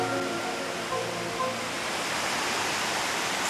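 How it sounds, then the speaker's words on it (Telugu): A waterfall at Benarai, with stream water flowing nearby, makes a loud, constant broadband rush of falling and running water with no pauses. "మనకి బ్యాక్ సైడ్ ఉంది వాటర్ ఫాల్ అండ్ ఇటు చూసుకుంటే ఇటు కూడా వాటర్ ఫ్లో అవుతుంది"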